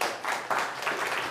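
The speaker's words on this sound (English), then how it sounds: "Give him a round of applause." An audience at the NixCon 2024 conference claps for a speaker being welcomed on stage, with a brief, dense burst of steady applause in a hall.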